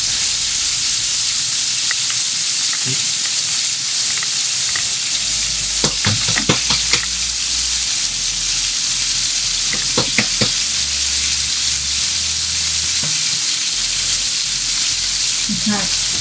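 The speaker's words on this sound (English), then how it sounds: "we can barely hear each other talk" A cheeseburger pasty fries loudly in a pan with a steady dense sizzle throughout, broken by a few sharp pops and scraping taps, with low background talk under the hiss.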